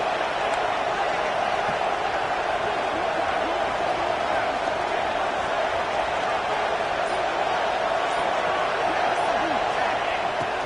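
Steady roaring crowd noise from a college football video game, Oregon vs Michigan State, a dense continuous stadium wash with no breaks.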